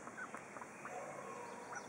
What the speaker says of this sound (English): now the duckies are talking